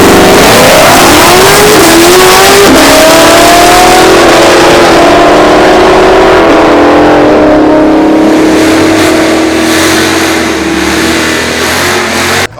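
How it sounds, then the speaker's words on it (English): A 1,000HP Hellcat on a full drag setup roars hard down a drag strip on a quarter-mile pass, its loud engine climbing through gear changes before fading slightly into the distance. "That thing looks crazy going down the drag strip."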